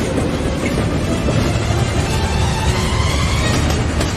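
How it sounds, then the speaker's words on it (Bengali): A train approaches with a loud, steady rumble and a broad roar of wheels and engine that holds evenly throughout, with no voices. "ট্রেন আসছে।"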